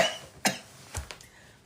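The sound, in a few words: cough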